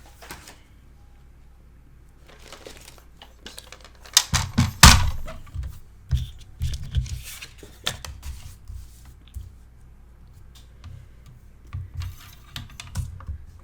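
Strips of paper being cut for a Stamperia Passion mini album, a series of close irregular snips and thunks of the cutting tool and the table, with quiet pauses between them.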